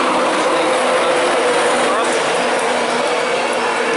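Train noise at Grantham station, with locomotive 91102 City of York on the London service: a steady, broadband rumble with a faint low hum that holds at an even level throughout and has no clear wheel clicks.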